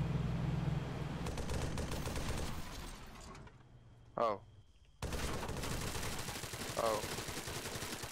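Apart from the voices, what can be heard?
50 cal machine gun fire in ARMA 3 video game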